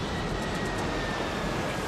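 Steady, dense roar of an airliner on final approach to Sioux City airport, a continuous broadband engine rumble that stays loud and even throughout.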